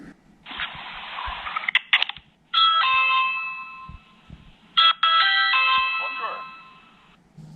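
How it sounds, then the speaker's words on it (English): Ring Video Doorbell 2 chime ringing indoors. After a soft tone, bright multi-note electronic chimes sound in two loud bursts separated by a short gap, with brief clicks between them and a quiet hum underneath. "go out there and ring your own doorbell and then it should work"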